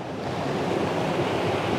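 A loud woodland waterfall pours in a steady, dense roar that fills the whole moment close to the microphone, with no breaks and no voices.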